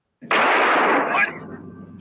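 A single loud gunshot goes off during a struggle over a gun in the 1977 action film Breaker! Breaker!, a sharp broadband blast that decays into a rumbling tail lasting about a second.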